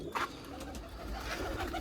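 Pigeons kept on a rooftop loft in an Amritsar bazaar coo softly, a faint low cooing with a brief slightly louder call at the start over light background noise.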